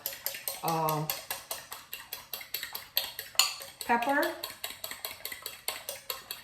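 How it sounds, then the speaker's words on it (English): Rapid, steady clinking of a fork whisking eggs in a bowl, close up, with brief speech breaking in twice. "you just beat up the eggs"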